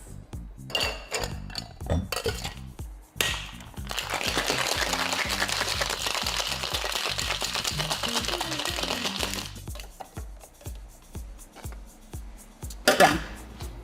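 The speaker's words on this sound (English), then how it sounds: "I'm going to dry shake that one so it starts getting nice and foamy" A cocktail shaker dry shaken for a gingerbread sour, a steady rattling slosh lasting several seconds, framed by clinking bar tools, glass and metal handling before and after, close and fairly loud.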